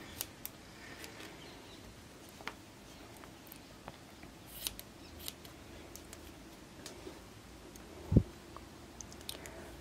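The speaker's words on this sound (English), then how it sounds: "I think my scissors are a bit blunt." Blunt scissors trim crocheted yarn in a series of faint, scattered snips and clicks heard up close in a quiet room, with one louder thump partway through.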